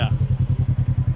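A Polaris RS1 off-road vehicle climbs hard, its engine pounding out a close, loud, rhythmic low throb of evenly spaced pulses for about a second.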